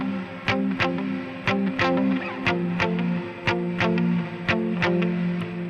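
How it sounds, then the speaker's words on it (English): Dry electric guitar, no delay, playing a basic worship-style rhythm part in all downstrokes: steady, evenly spaced picked notes with a clean chiming tone at moderate volume. "the picking rhythm sounds like this"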